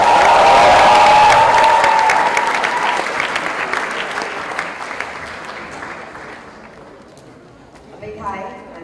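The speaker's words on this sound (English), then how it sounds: "a big applause for yourselves, please" A crowd at a live event bursts into loud, dense applause that gradually thins and fades over several seconds, with scattered claps trailing off and a brief voice near the end.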